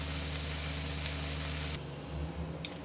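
Eggplant fries with onion greens in a pan, a steady close sizzle that drops abruptly partway through as the stove is switched off, leaving a quieter crackle.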